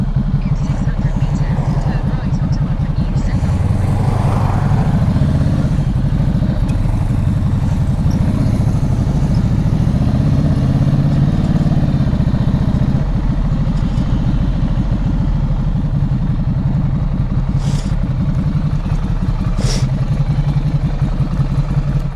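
Ducati motorcycle idling on a shop forecourt, a loud low rumbling engine with a lumpy, pulsing beat that continues throughout while people talk excitedly nearby.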